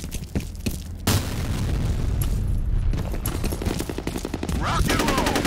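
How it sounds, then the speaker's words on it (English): A grenade explodes in the Counter-Strike shooter game with a sudden sharp boom, followed by a sustained rumble and rapid gunfire in the background. "Grenade out!"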